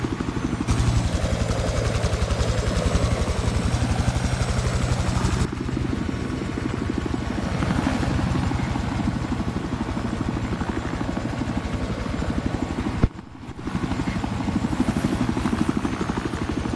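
A video game helicopter's rotor chops steadily and loudly close by, a dense rhythmic thumping that runs through the whole stretch with a brief dip near the end.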